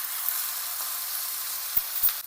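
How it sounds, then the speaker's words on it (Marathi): Prawns roasting in hot oil on a pan, a steady close hiss of frying with a couple of soft knocks near the end and no voices. "त्याच्यामध्ये आता झिंगे भाजून घ्यायचे"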